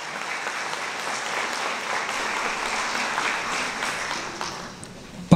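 Applause fills a youth awards gala in Mielec, a steady broad wash of many hands clapping without a break, moderately loud and sustained, with a brief louder burst at the very end.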